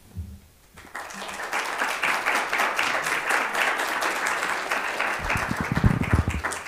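An audience at a talk on languages and cultures breaks into applause after a short quiet start, steady dense clapping that keeps going to the end, with a few voices underneath.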